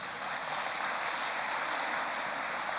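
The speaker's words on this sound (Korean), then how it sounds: "한번 박수 한번 쳐주실래요?" A church congregation clapping together during a Sunday service, a dense, even patter of many hands heard from a little distance, moderately quiet and sustained.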